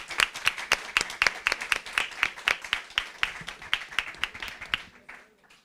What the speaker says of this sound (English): Let's put your hands together for a winner.